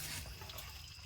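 Engine oil draining from a 2013 Ford F350 with the 6.7L diesel, a steady close liquid pour and trickle hissing continuously without pause.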